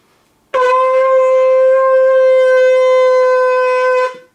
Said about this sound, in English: And the tkiyah, the long blast